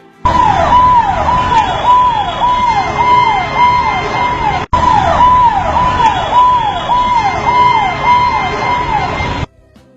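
An ambulance siren wails loudly and close by in a fast, repeating rise-and-fall pattern, with a brief cut midway before it continues and then stops.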